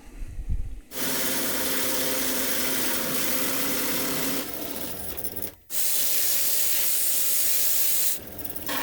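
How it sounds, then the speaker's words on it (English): A power drill whirs loudly in long sustained bursts, drilling mounting holes for a car amplifier under the trunk floor, stopping briefly between runs, close by with no talking. "All these corners I will drill with this one."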